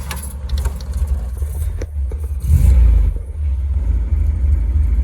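A 1964 MGB roadster engine cranks and catches with a low rumble, then settles into a steady idle, close and loud.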